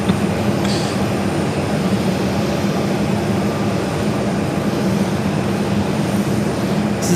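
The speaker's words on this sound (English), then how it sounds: "This is Delta 767-300ER taking off to Atlanta, flight 348" A Delta Boeing 767-300ER jet on its takeoff roll makes a loud, steady broadband roar with a heavy low rumble, continuous throughout and with no talk.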